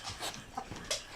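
Dog panting and whimpering indoors, quick rough breaths with a couple of small whines, close and quiet.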